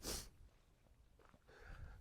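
A single person's sneeze bursts out right at the start, faint and brief, followed by quiet breathing and a soft snort.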